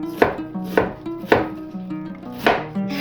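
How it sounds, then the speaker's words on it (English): A knife shreds half a head of cored cabbage on a cutting board, five or six crisp, sharp chops in an uneven rhythm, close and clear with no one speaking. "We're going to shred some cabbage."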